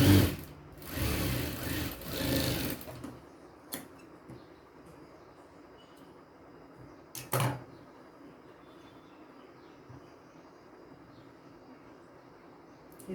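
A sewing machine runs in a short close burst for about three seconds, stitching the folded hook strip of a square katori blouse, then stops, leaving quiet room tone with a couple of small knocks.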